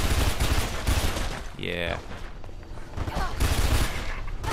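Gunfire in Mirror's Edge: dense, rapid automatic shooting at the start and again near the end, close and harsh, broken by a short stretch where a voice speaks briefly.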